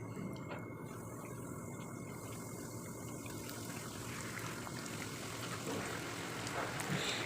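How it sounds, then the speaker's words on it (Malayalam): Chicken ada frying in hot oil in a kadai over a medium flame, a steady dense sizzle with fine crackling and popping that holds close and even throughout. "ഓയിൽ ചൂടായി വന്നതിന് ശേഷം നമ്മൾ റെഡിയാക്കി വെച്ചിട്ടുള്ള അട ഓരോന്നായിട്ട് ഇട്ട് കൊടുക്കുക."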